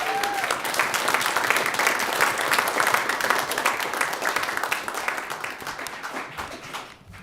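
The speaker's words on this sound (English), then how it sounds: "Let's give a round of applause to everyone one more time." A theatre audience at a poetry recitation finals breaks into sustained, dense applause, loud and steady for several seconds before thinning out at the end.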